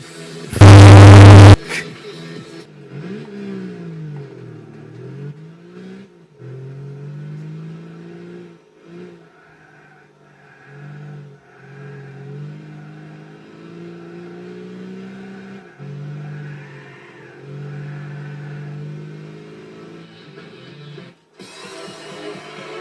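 Car engine in Gran Turismo 6 revving up and down through a cone slalom license test, a steady mid-pitched drone rising and falling repeatedly, opening with a brief loud burst before settling into continuous game engine sound.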